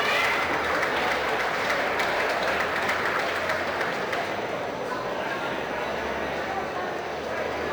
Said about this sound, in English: Let's give a big round of applause for Lane Ager.